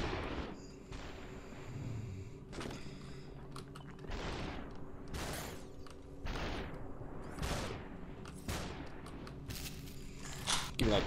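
Repeated gunshots ring out in the Superhot video game. The sharp, loud blasts come every second or so over a low ambient hum.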